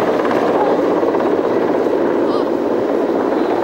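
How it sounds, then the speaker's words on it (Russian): A helicopter circles over smoke from a railway accident with burning tank cars in Kirov; its steady rotor drone fills the air, loud and continuous, with a faint hint of distant voices. "В небе, вокруг дымовой завесы, кружил вертолет."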